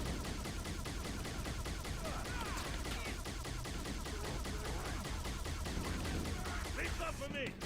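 Rapid turret gunfire in a video game rattles continuously and loudly throughout, dense bursts blending into a steady barrage with faint voices beneath.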